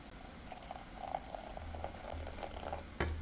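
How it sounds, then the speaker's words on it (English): Boiling water poured onto gelatin, a steady bubbling, hissing liquid sound with small patters and a low hum, close and continuous throughout with no talk. "we're going to add a half of a cup of boiling water"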